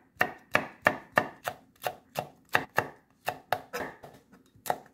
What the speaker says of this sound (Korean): 고추는 씨를 빼지 않고 그냥 이렇게 뚝뚝 편으로 썰어줍니다